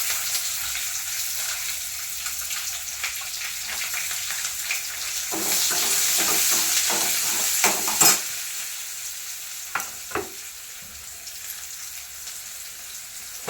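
Onion and green chillies frying in a pan, a continuous bright sizzle with occasional stirring clinks and scrapes, close and fairly loud, with no voices.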